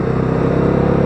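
A Bajaj Dominar 250 motorcycle engine drones loud and close during a ride, a steady rumbling throb with a fast, even pulse and no talking.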